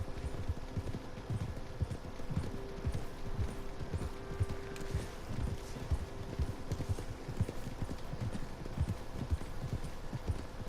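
A horse in Red Dead Redemption 2 trots steadily, its hooves clip-clopping in a fast even rhythm, loud and close throughout with faint game ambience.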